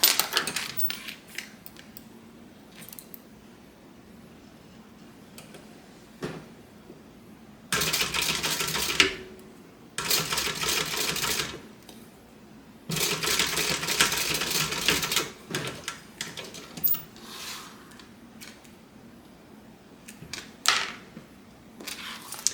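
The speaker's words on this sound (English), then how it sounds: "we're just going to top stitch on the very edge of this zipper tab" A sewing machine top-stitches along the edge of a zipper tab on a clutch bag, running in three bursts of rapid mechanical stitching separated by pauses with small handling clicks and rustles.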